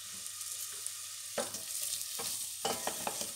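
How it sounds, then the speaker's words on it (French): Onion fries in hot oil with a loud, close, steady sizzle that hisses on without a break. A few scrapes and pushes of a spoon moving the pieces around the pan sound through it. "on va faire revenir dedans, une fois que c'est chaud, l'oignon"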